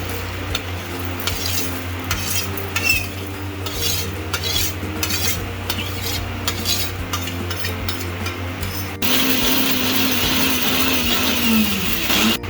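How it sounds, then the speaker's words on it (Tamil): A mixer grinder in pulse mode whirs and rattles in short pulses, then runs in one louder, steady grind toward the end. "இந்த பல்ஸ் மோடில் தான் வச்சு அரைக்கணும்."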